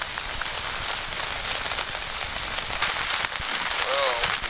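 Rain patters steadily on a camping tent in Algonquin, a dense, even hiss of drops striking the fabric close by that continues without a break, with a few louder taps standing out.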